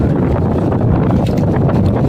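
Wind gusting steadily outdoors as a storm approaches under cloudy skies, a loud continuous broadband roar buffeting the microphone throughout with no pauses.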